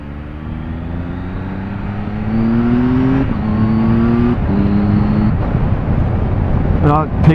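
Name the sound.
2018 Triumph Tiger 1200XCA motorcycle accelerating on test ride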